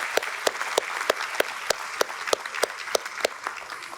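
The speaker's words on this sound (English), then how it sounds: "Please join me in giving them a round of applause." Applause at a governor's annual opioid response summit, sharp individual claps ringing out in a steady rhythm of about three per second over a softer background of clapping, loud and close.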